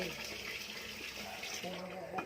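Water boiling hard in a pot of rice over a charcoal stove, a steady close rushing bubble with a voice faintly underneath.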